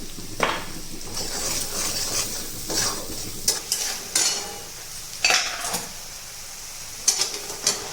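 Masala of chilli powder, coriander-cumin and salt roasts in oil for a radish-leaf curry with gram flour, giving a steady soft sizzle broken by repeated scraping and stirring clicks of a spoon against the pan, no voices.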